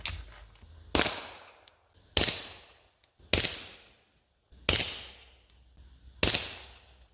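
Five sharp, loud shots from a Ruger Mark IV 22/45 pistol with a 3-inch barrel firing hot 40-grain .22 ammunition, spaced about a second or more apart, each with a quick decaying ring.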